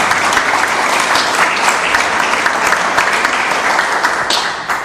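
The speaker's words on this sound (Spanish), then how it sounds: "Recibimos con fuertes aplausos." A crowd at a cultural association evening event applauds loudly, a dense, sustained wash of clapping close and full for the whole stretch before tapering slightly at the end.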